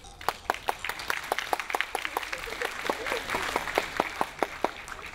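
An audience at a film festival evening applauds a director being introduced: sparse, distinct hand claps ring out at a brisk, uneven pace, close and fairly loud, over a soft murmur of the room.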